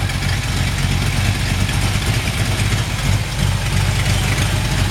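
Close by, a 1968 Plymouth Sport Fury V8 idles smoothly with a steady, low, throbbing exhaust burble that holds even for several seconds.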